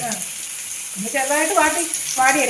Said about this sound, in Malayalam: ചുമ്മാ നെയ്യ് ഒഴിച്ച് ഒന്ന് വഴറ്റു ഒരു കുറച്ച് നേരം